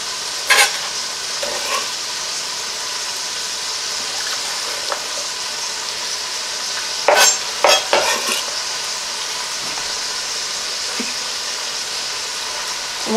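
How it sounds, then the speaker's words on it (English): Onion, celery and shredded carrots sauté in a soup pot, giving a continuous bright sizzle with a few sharp clinks and scrapes of stirring near the start and middle. "So just gonna go ahead and add those to the pot."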